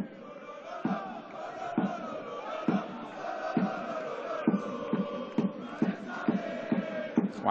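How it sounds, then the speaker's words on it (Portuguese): Football supporters of Farense in a stadium clap rhythmically in repeated sharp beats over a broad crowd roar and chanting, the claps growing quicker toward the end. "Aplausos dos adeptos do Farense."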